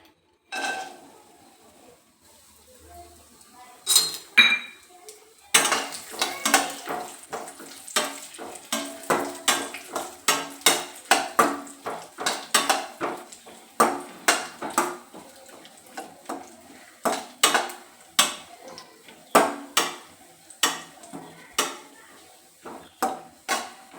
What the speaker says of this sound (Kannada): ದಪ್ಪ ತಳದ ಪಾತ್ರೆನ ಕಾಯಕ್ಕಿಟ್ಕೊಂಡು ಅದರಲ್ಲಿ ತುಪ್ಪ ಹಾಕಿ 2 ಸ್ಪೂನ್ ತುಪ್ಪ ಹಾಕಿ ಗೋಡಂಬಿ ದ್ರಾಕ್ಷಿನ ಹುರ್ಕೊಳ್ಳೋಣ